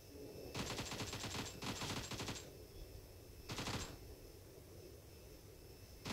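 Automatic gunfire from a TDM shooter video game, with three sustained bursts of rapid shots, two back to back near the start and one shorter burst mid-clip, loud and close over a low game ambience.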